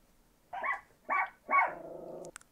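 A dog barks three times, a mid-range bark with short gaps between each, the last one stretching into a rough trailing growl, fairly close and alone.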